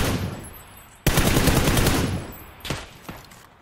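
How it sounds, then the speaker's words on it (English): Gunfire from two teams fighting in a squads shooter video game, with a sudden loud burst of rapid automatic fire and then a few fainter scattered shots. "Yep, this is two teams fighting each other."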